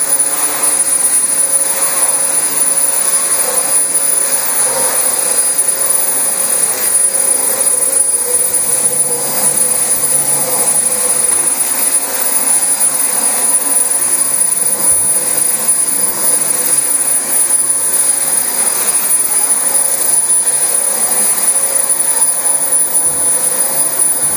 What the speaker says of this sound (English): this vacuum doesn't really have any what you call snowplow issues